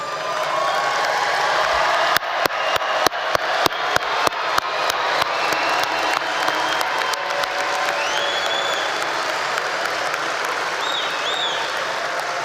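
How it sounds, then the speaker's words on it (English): A commencement crowd applauds the graduating class of 2024 in a long, full ovation. Sharp individual claps stand out at the start, with faint whoops and cheers rising through the steady clapping. "join together to give a big round of applause for the class of"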